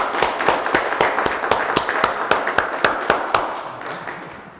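A church congregation claps in approval, a loose, fairly sparse run of distinct hand claps with an uneven rhythm that gradually thins and fades out.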